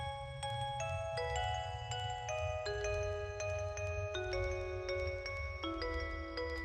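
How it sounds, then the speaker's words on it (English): A bright, plucked synth arpeggio cycles steadily through spread-out chord notes, alone without the 808 bass and at a moderate level, with a low steady hum beneath. "The main part of the song comes from this arpeggio-ish riff"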